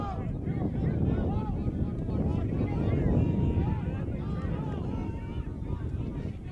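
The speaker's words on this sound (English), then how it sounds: "the wind starts to really pick up. About as windy as it's been all day." Strong wind buffets the microphone with a constant low rumble while people talk over it, outdoors at a college lacrosse national semifinal game.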